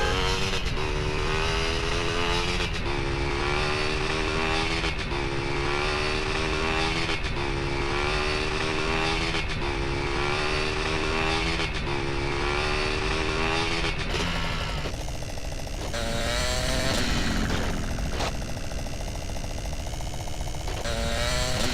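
Steady car engine drone from the driving game GTA San Andreas, a continuous buzzing motor tone with gear-shift dips and rising revs near the end, no voices over it.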